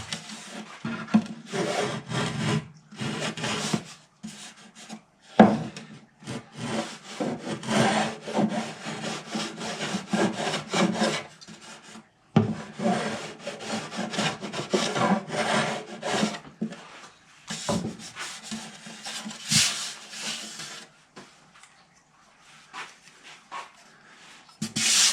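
A hand scraper works along the binding of a guitar body in bursts of close, rasping strokes, broken by short pauses between passes.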